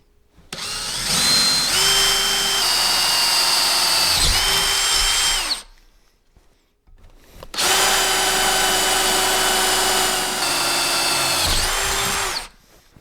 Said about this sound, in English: I'm going to drill using 17/64 drill bit.